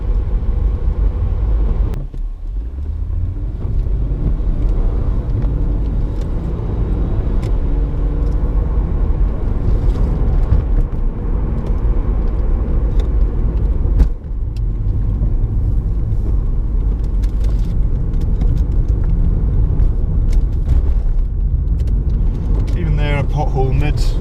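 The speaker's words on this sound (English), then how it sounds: "it's a nice, smooth, quiet engine, apart from when you put your foot down" A Lexus IS250 direct-injection engine while driving, a low smooth steady rumble with road noise inside the cabin, heard under continuous talk from the driver.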